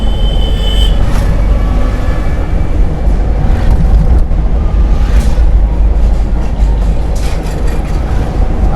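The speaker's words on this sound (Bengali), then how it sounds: "আস্তে আস্তে এক্সিলারেটর দিন" Car engine revving steadily during a driving lesson, a continuous loud low rumble with road and cabin noise throughout, no clear pauses.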